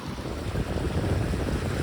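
Broadband rush of ocean waves and wind around a Westsail 32 sailboat running nearly straight downwind, a steady close roar of water and wind across the hull and microphone with no speech.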